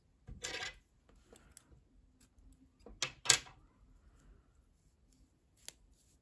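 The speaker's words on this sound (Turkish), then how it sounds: "İpliği kesiyorum." Scissors snip crochet yarn for a baby's hat, with a couple of crisp close cuts, one near the start and another in the middle, among quiet handling noises.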